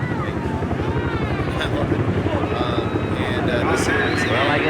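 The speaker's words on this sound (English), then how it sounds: "Now you can hear those helicopters. Huey helicopters." Huey helicopters fly overhead during the 1993 Dearborn Memorial Day parade. A continuous rotor chop and rumble runs throughout, with wind buffeting and people talking over it.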